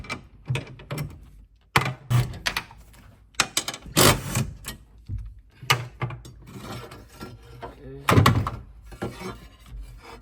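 Ratchet clicking in short bursts while removing a 12 mm bracket bolt near the fuel pump of a 9th-generation Honda Si, with sharp metallic knocks between the bursts; close, fairly loud and uneven, with no talk.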